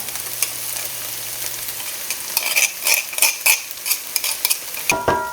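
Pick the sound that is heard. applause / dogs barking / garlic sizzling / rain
garlic sizzling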